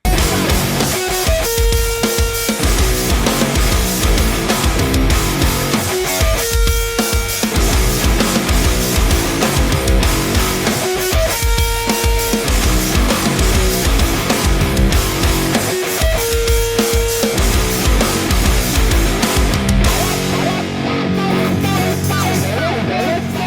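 A distorted electric guitar riff repeats in a steady looping pattern with full band backing, loud and dense throughout, ending with a brief change near the end.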